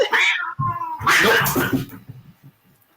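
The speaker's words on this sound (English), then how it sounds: "I'm having a cat fight here." Two house cats fighting as one grows jealous of the other, with loud yowling, hissing caterwauls in a burst at the start and again mid-clip, trailing off into quieter growls near the end.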